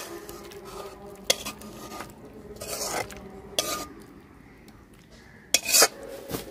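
A pot of egg korma with purple cauliflower is lifted off the stove, with occasional metallic clanks and scrapes of cookware against the burner and utensils, a few sharp knocks standing out over a quiet background.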